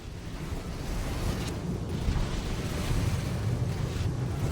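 Rising water in Baldur's Gate 3, a steady rushing, surging wash of water with low rumbling swells, continuous and fairly loud with no voices.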